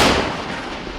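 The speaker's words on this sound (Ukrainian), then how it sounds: "Постріл!" A loud, close blast with a sharp onset and a long rumbling, noisy decay, like a heavy gun firing nearby.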